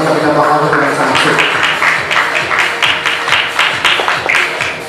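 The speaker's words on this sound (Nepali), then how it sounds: "कृपया उहाँलाई पनि कृपया जोरदार ताली गरेर उहाँलाई सम्मान गरिदिनु निमित्त म हार्दिक अभिनन्दन अनुरोध गर्न चाहन्छु" An audience claps steadily at a dance academy's annual cultural program. The applause is loud and continuous, with sharper individual claps rising near the end.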